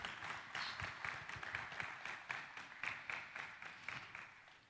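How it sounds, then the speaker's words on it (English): An audience at a summit event applauds a co-convener, a dense, steady patter of many hands clapping together, faint and distant throughout the stretch with no voices over it. "Can you please put your hands together for him properly?"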